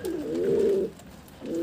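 Pigeons, including a black male and a female, cooing nearby, a soft throaty coo followed by a short pause and the start of another coo.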